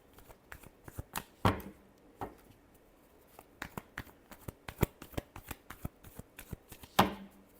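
A deck of cards shuffled by hand, close up, with irregular soft flicks and a few sharper snaps against a quiet background, no voices.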